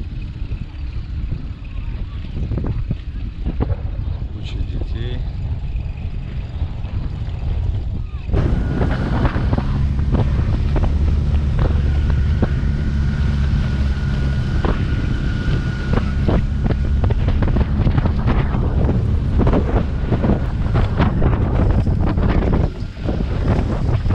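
Heavy wind buffets the microphone in loud, rumbling gusts on a riverside beach, growing stronger partway through, with faint talk and outdoor noise beneath.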